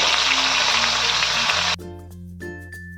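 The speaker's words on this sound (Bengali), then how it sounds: "একইভাবে আমি এই মাছগুলোকে ভেজে নেব" Katla fish pieces fry in hot oil in a karai, a dense, loud crackling sizzle for under two seconds before it cuts to music.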